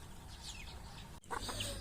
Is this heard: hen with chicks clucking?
yes